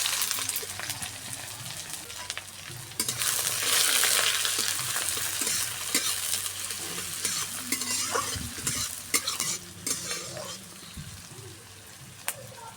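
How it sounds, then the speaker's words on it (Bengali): Chopped onions frying in hot oil in a pan for a mushroom dish, a steady close sizzle that swells as they go in, with stirring scrapes and crackles through it and no talk. "তেলটা আমার হয়ে গেছে, এবার দিয়ে দেব পেঁয়াজ কুচি।"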